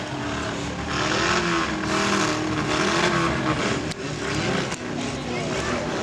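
Demolition derby cars at a large exhibition arena roar and rev together in a steady, dense engine rumble, with a crowd and a loudspeaker announcer over the din.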